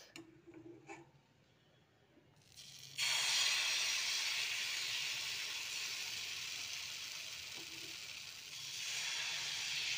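Pancake batter poured into a hot, oiled pan sets off a sudden loud, steady sizzle a few seconds in. It holds at full strength and swells again near the end, after a few faint clicks and quiet moments before the pour.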